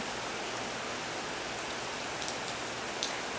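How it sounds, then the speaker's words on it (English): Steady rain pours onto a garden on a wet mid-June day, a dense, even hiss with a few louder drips standing out, close and uninterrupted with no voices. "I don't know where all this rain is actually going."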